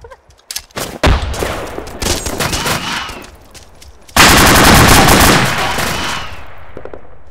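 Arma 2 combat, with a grenade blast and a loud sustained burst of gunfire and explosive rumble that cuts in sharply partway through, following scattered nearer shots and noise.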